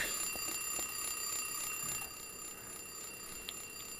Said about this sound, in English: will you turn off the alarm?